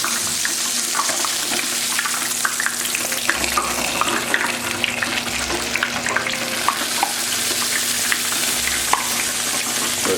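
Chicken wings frying in hot oil give a steady, loud, close sizzle with scattered crackles and pops that keep going without a break and no voices over them.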